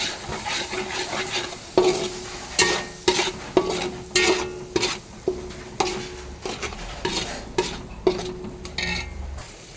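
Mango pickle is stirred with vinegar in a pan: a steady run of close, rhythmic scraping stirs over a soft, continuous sizzle, with light clinks of the spoon against the metal.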